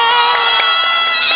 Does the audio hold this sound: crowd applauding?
yes